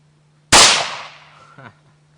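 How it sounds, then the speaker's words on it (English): A single sharp gunshot cracks out at a Diet Coke can target on a Seguin deer lease, loud and sudden, followed by a decaying echo and a faint rattle. "They're gonna shoot again."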